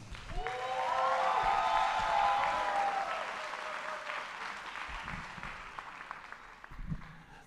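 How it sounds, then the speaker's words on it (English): A summer graduation audience applauds, a broad swell of clapping that builds to a peak and slowly tapers off, with a whistle cutting through early on. "another round of applause"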